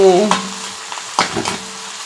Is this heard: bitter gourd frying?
yes